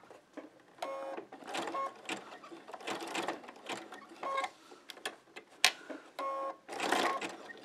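Sewing machine stitching a coiled rope bowl at a 2.5 stitch length, running in short bursts of rapid mechanical clatter separated by brief pauses, close and moderately loud with no talking.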